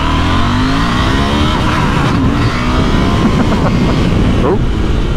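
The parallel-twin engine of a 2021 KTM 890 Adventure motorcycle pulls hard under acceleration, a loud, close, continuous rasping drone with rising pitch sweeps.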